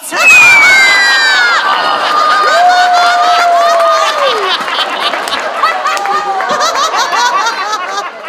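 A large crowd shouts and cheers loudly and continuously, with children's high-pitched yells, whoops and scattered laughter rising above a dense roar of many voices.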